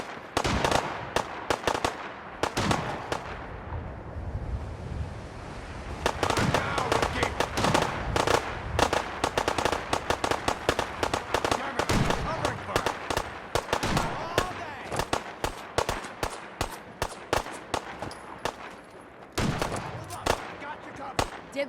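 Rapid bursts of gunfire crackle through a Fallout 4 firefight, dense volleys of sharp shots with a brief lull near the start, then sustained automatic fire and scattered single cracks, loud and close.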